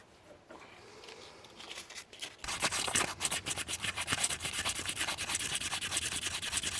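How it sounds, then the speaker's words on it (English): Rapid back-and-forth scrubbing of 600-grit sandpaper on a small car's valve cover gasket surface, starting after a quiet moment and continuing in a steady rhythmic rasp, close up with no talking. "I also use some sandpaper here to get the surfaces nice and shiny again."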